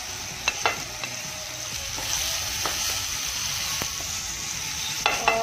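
Capsicum and tomatoes fry in a pan for masala Maggi, giving a steady close sizzle with occasional sharp spatula clicks and taps against the pan.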